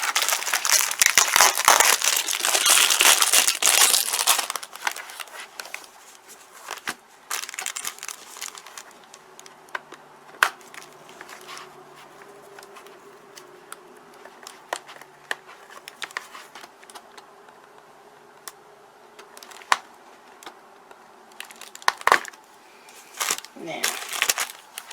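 Scissors snip plastic ties that hold a 2020 Moonshine Jungle David Adonis doll by Mizi in its packaging liner: sharp, scattered close clicks and rustles, with heavier crinkling of packaging at the start.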